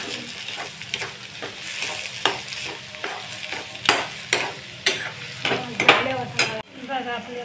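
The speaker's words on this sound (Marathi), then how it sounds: "आता मिक्स करून घेते." Egg bhurji sizzles in a pan while a spoon stirs it, producing a steady frying hiss punctuated by regular scraping clinks against the pan.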